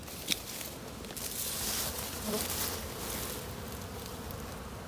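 Honeybees swarm around a busy hive in mid-October, making a steady, dense buzzing drone close by with no pauses, alone without speech.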